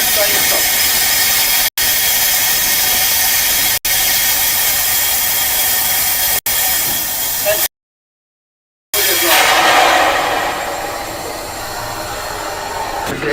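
A steam locomotive with its cylinder cocks open lets out a loud, continuous roaring hiss. The hiss is broken by a few brief dropouts and one full second of silence, then resumes strongly and slowly eases off.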